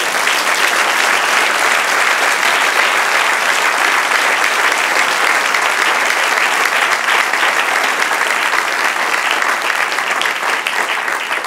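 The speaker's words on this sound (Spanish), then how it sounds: "Dar un aplauso al Señor." A church congregation applauds the Lord at a sermon, steady dense clapping filling the whole stretch at high volume with no break, a broad crowd sound without talk over it.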